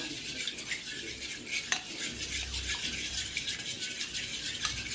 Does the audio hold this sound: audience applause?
no